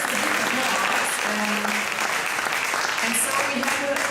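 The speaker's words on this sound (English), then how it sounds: "yes, I think it deserves a big applause." An audience applauding at IFA Berlin, dense continuous clapping at an even level from start to finish.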